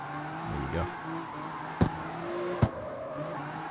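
In the CarX Street racing game, a car drives along a mountain road with a steady engine drone and a long tire squeal, plus two sharp knocks.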